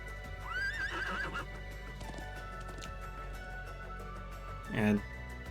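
A horse in the video game Trails of Cold Steel II gives a loud, rising and falling whinny near the start, with clip-clop hooves and game sounds around it and a short snort-like burst near the end.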